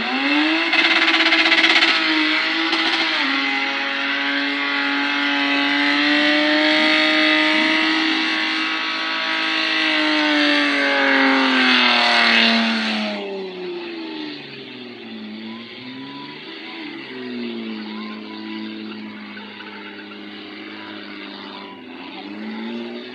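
A Ford doing a burnout in the rain at Port Pirie, South Australia, its engine revving hard and loud in a long rising and falling wail before easing to a lower, wavering idle-like drone.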